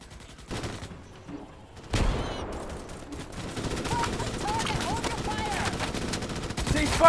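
Gunfire in the Starship Troopers: Extermination video game, rapid automatic bursts crackling continuously after a brief lull, dense and steady under faint game voices.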